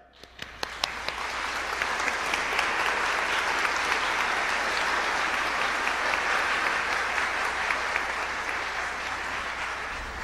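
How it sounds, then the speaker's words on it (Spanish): Sustained audience applause for a spiritual teacher at a religious lecture, steady and dense throughout with a few sharper early claps, loud and close with no talk over it. "Damos aplausos para la gran maestra."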